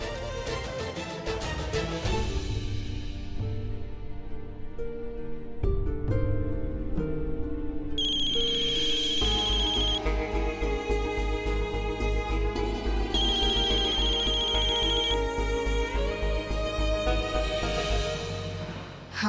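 A phone ringtone plays a melodic electronic tune that repeats for a long stretch and is never answered, with chiming upper notes over a rhythmic bass line. It is moderately loud and has no talk over it.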